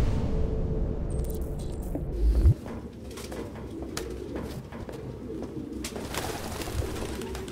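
Pigeons crowd a room in the PS4 game Detroit: Become Human, their soft cooing and flapping filling a continuous murmur, with a louder low rumble early and scattered sharp wingbeats and clicks throughout.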